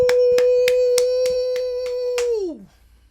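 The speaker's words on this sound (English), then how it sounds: "Let's clap it up, bro." About eight sharp hand claps in a steady, quick rhythm, close and loud, ringing over a sustained electronic tone that slides downward and fades out after the last clap.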